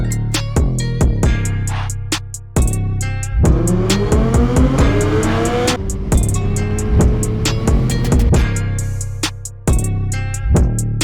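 Suzuki Hayabusa motorcycle ridden close and loud, its engine climbing through rising revs between sharp gear changes and punctuated by repeated clicks and thumps, with no talking.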